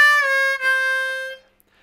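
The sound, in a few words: harmonica four blow exercise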